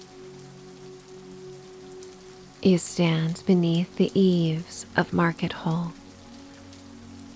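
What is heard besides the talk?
rain falling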